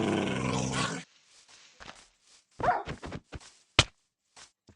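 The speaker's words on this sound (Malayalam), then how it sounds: "എന്നെ ഒരു പട്ടി അറ്റാക്ക് ചെയ്യാൻ വരുന്നു." A dog growls and barks in a video game, heard as a series of short, sharp snarls and yelps after a brief stretch of background noise, mostly clipped and punchy with gaps of near silence.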